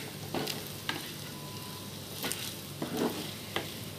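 Soft steady sizzling of mutton frying in a pressure cooker, with occasional scraping stirs and clinks of a utensil.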